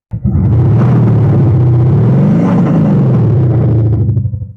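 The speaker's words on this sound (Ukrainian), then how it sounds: "встановивши на даний автомобіль німецький електронний вихлоп Maxhaus" A Cadillac XT6 fitted with a MaxHaust German electronic active exhaust system lets out a loud, deep booming rev, rising and falling in one swell over a few seconds before cutting off.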